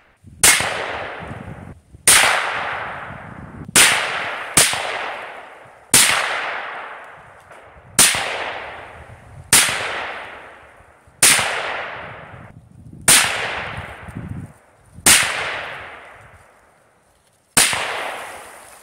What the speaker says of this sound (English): Listen to the difference between the report of this AK suppressed versus my 16-inch AR suppressed.